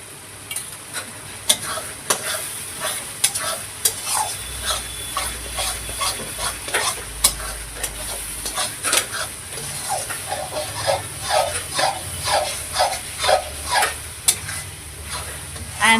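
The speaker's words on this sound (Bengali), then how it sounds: "মশলার থেকে তেল এখনো ছাড়িনি সেই জন্য মশলা মশলাটাকে কষাতে হবে" Spice paste (masala) sizzles in hot oil for aloo dum while a utensil stirs and scrapes it in a steady repeating rhythm, a constant close frying hiss beneath the strokes, with no talking.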